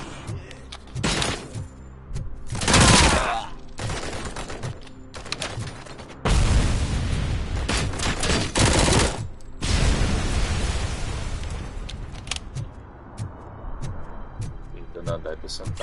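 Gunfire and smashing impacts in the RoboCop video game, loud bursts and crashes spread across the stretch, with someone talking over parts of it.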